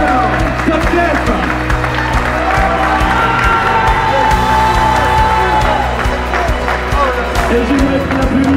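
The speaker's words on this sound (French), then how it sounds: "un grand bravo à Émile Péruge." An audience at the Top Clef 2024 final applauds and cheers the winner, a dense, loud crowd roar blended with sustained music, continuous throughout and close.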